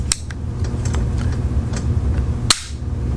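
A Beretta 84 pistol's hammer is cocked, giving a few light metallic ticks and then one sharp, close click amid faint handling noise.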